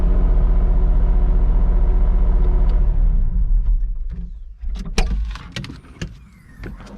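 A Terex PT30 compact track loader idles with a deep, steady engine rumble, then the hydraulics work the bucket, leaving a lighter, uneven whine and hiss broken by several clunks and knocks.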